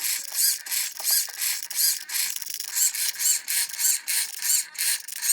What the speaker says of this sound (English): Now here is the after with the new servo installed.